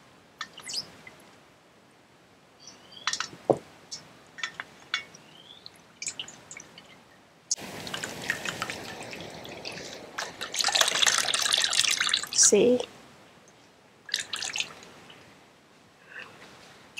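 Grated coconut is mixed with drinking water and squeezed by hand to make coconut milk for a Massaman curry. Close, soft wet squishing and dripping come in intermittent bursts, with no talking.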